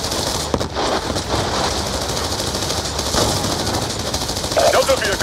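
Machine gun fire rattles through a Call of Duty: Black Ops II convoy battle. The bursts come in dense, continuous volleys mixed with distant explosions and radio chatter, and a voice speaks over the firing.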